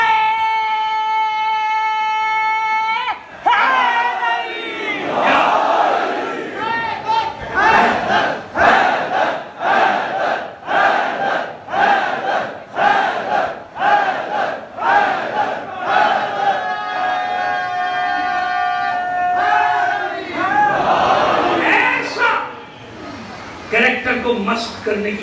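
A large crowd at a Shia majlis in Mochi Gate, Lahore, shouts religious slogans in loud, rhythmic unison, answering a leader's sustained, chant-like calls in repeated bursts.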